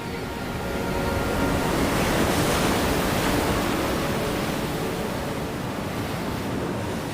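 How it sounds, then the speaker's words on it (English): Ocean waves crash steadily against rocks along a coastline, a broad, continuous roar of surf swelling slightly and holding loud throughout, with no voices. "With each wave, the sea unleashes some of its formidable energy. The rocks along the coastline stoically endure the sea's assault."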